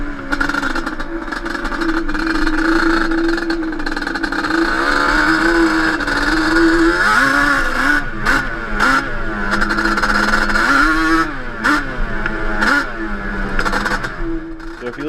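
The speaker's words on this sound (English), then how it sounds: "It was just like this kind of skipping, shaking, clicking sound, and it lost power immediately." A Banshee ATV with a faulty rebuilt transmission runs under throttle, its engine droning and rising in pitch with revs while irregular skipping, clicking clatter breaks through, close and loud.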